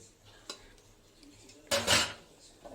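A metal lid clatters down onto a pan of fried fish curry, one sharp clank followed by a brief rattling scrape, close and loud, after an earlier small clink.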